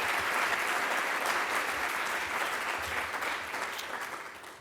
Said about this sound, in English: Can we please give Dr. Jacobson a big round of applause?